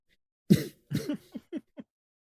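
A person coughs in a short burst of about five hoarse coughs, loud and close at first and then tapering into smaller, weaker hacks.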